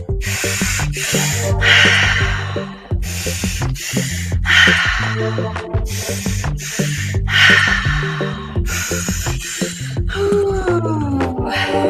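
Fast, rhythmic breathwork with sharp nasal puffs repeating steadily over a low musical background, close and fairly loud throughout.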